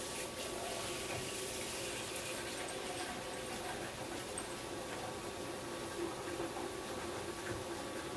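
Tap running steadily into a bowl to fill fresh drinking water for dogs, a constant close rushing, splashing flow that holds evenly throughout with no voices.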